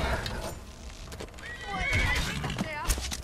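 A horse in the Skyrim video game neighs in a clear whinny midway, with hooves clip-clopping and game sounds around it, while someone speaks over the action.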